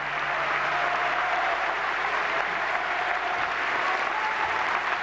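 Steady audience applause closing an Argentine presidential debate, a dense continuous roar of clapping from a large studio crowd that stays level for five seconds, with a low hum underneath.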